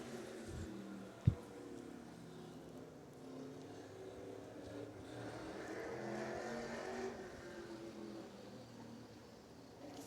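A 4-cylinder pure stock race car at Hudson Speedway takes the green flag in qualifying, its engine a steady distant drone building slightly toward the middle, with a sharp brief knock early on.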